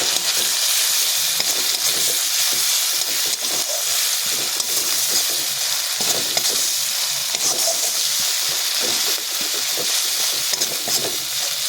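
Ginger, garlic and chili paste stirred in a hot frying pan, giving a steady loud sizzle with soft scraping strokes throughout and no voices.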